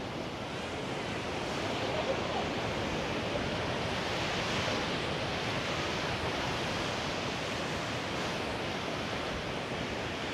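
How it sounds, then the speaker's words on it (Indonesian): Big surf crashing onto the shore at Gunung Kombang beach with strong wind buffeting the microphone, a steady loud roar of breaking waves and gusts lasting the whole time, no voices. "dan ombaknya besar banget tuh"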